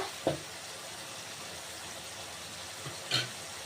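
Onion, tomato and curry leaves fry quietly in a pan, a faint steady sizzle broken by two short clinks of a spoon against the pan.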